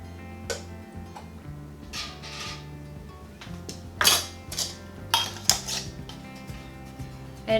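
Glass jars of cherries are set into a canner, with close clinks and clatters of glass and metal in scattered knocks over a low background hum.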